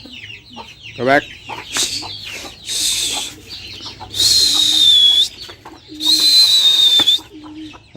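A free-range backyard hen with five chicks clucks while the chicks give high, thin peeps; soft scattered clucks lead into two louder, sustained bursts of calling up close, and a voice speaks briefly.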